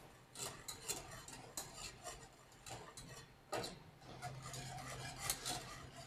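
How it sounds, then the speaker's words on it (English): A whisk works quickly through a mixture in a bowl while a second ingredient is streamed in, a soft, steady stirring with light metallic ticks against the bowl, quiet and close. "Always whisk as you're combining the two."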